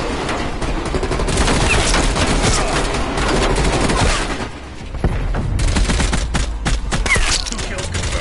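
Dense, loud gunfire from a Call of Duty match, with rapid overlapping shots and bursts running almost without pause, dipping briefly before resuming at full intensity.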